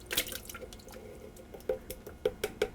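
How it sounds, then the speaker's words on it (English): Water drips and splashes from a kitchen tap as fingers are rinsed, a close, soft patter with a few brighter drops toward the end and no talking. "got to rinse my fingers"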